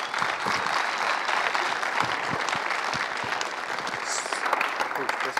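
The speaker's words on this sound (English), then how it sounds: "So if you guys can all give a round of applause to Brad Geddes" A conference audience applauds the opening keynote speaker at a search-marketing event, a steady wash of clapping that runs evenly from start to finish without pause.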